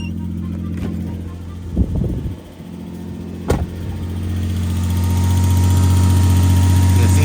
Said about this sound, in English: So we're gonna start the car right now.